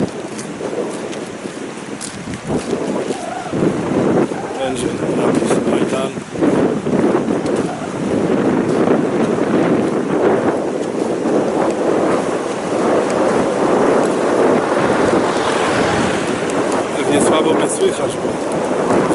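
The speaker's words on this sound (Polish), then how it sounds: "wiatr wieje, nie?" Wind blows hard across the microphone on an April mountain trail in the Beskid Niski, a loud steady rushing roar with gusty swells, while a person talks over it.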